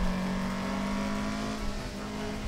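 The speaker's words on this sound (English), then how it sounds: "The engine sounds knackered, but that's just the engine. That's just the note of this engine." A race car engine in a racing video game drones at a steady, rough-sounding note, its constant hum holding at one pitch with slight wavering throughout, with no talk.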